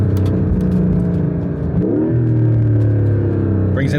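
Inside a Porsche 991.1 GT3 RS fitted with an iPE exhaust, the engine drones loudly and steadily, its pitch shifting midway as the revs change, with a brief rising rev near the end and no talk.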